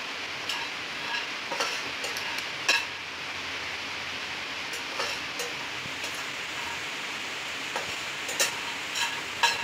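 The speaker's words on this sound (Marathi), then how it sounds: "आपण याच्यामध्ये थोडे शेंगदाणे भाजून घेऊया, शेंगदाणे थोडी मिरच्या सुद्धा भाजून घेऊया" Peanuts and chillies dry-roast in a pan for chutney, a quiet background hiss broken by sparse light ticks and scrapes as they are stirred.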